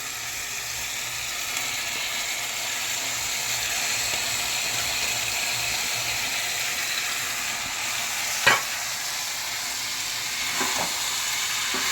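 Chicken pieces and chopped banana flower fry in a pan with a steady, loud sizzle, while a spatula stirs through them and scrapes the pan in a few brief clinks near the end.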